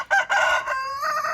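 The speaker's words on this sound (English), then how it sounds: "I love to hear them crow." A rooster crows in one loud, drawn-out cock-a-doodle-doo, clear and close with strong harmonic tones, its call rising and then holding steady before it tapers at the end.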